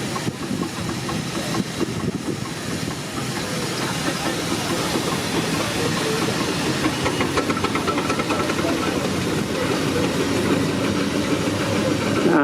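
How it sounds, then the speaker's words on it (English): An early-1900s steam showman's engine supplied to Coles of Bristol runs loud and continuous at a steam rally, with a steady chuffing and hissing rumble throughout. "showman's engine owned by the Turner brothers from North Yorkshire and exhibited here for the first time."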